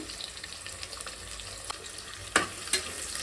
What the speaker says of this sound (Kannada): ಎಣ್ಣೆಲಿ ಫ್ರೈ ಆದಮೇಲೆ ನಾನು ಈರುಳ್ಳಿ ಹಾಕೋತಾ ಇದ್ದೀನಿ. ಹಸಿಮೆಣ್ಸಿಕಾಯಿ ಹಾಕೋತಾ ಇದ್ದೀನಿ.